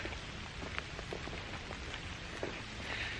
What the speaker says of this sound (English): listening to the light rain